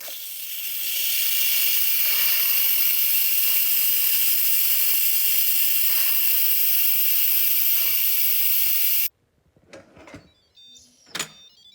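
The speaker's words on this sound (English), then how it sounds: "you can release the steam, which is just kind of fun" Loud, steady hiss of steam venting from an Instant Pot pressure cooker while making chicken bone broth congee, running continuously for about nine seconds before cutting off abruptly, followed by a few quiet clicks and handling noises.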